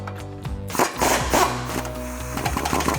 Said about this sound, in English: So I have my impact extension and 22mm socket. We're gonna take this bolt out.